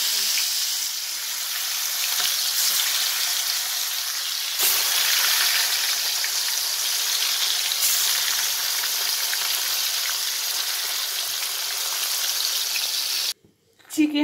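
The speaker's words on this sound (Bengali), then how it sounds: "চিকেনটা ভেজে করব আজকের আমি।" Chicken pieces fry in hot oil in a kadai, giving a loud, steady sizzle that surges once as more meat goes in, then cuts out abruptly near the end before returning.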